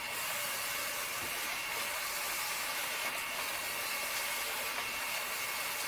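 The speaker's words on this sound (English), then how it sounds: "So now let's scan this junk mail." An Epson WorkForce ES-300W portable document scanner feeds junk mail through in color, double-sided mode, giving a steady, even whirring hiss that runs unbroken for several seconds with no voices.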